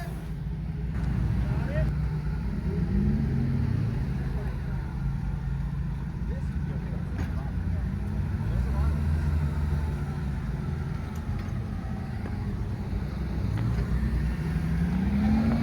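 Vintage Land Rover crawling through rocky Pritchett Canyon, low rumbling engine that rises and falls with throttle, moderately distant, under ongoing talk.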